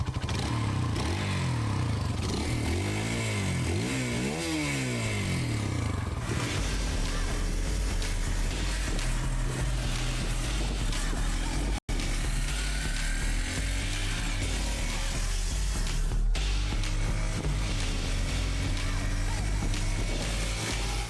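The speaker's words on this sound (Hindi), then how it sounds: "प्रायोरिटी नंबर 1 एग्जॉस्ट नोट कैसा है" A Hero Xtreme 160R 4V motorcycle engine rumbles and revs, its exhaust note rising and falling through several throttle blips before settling into a steady, loud idle.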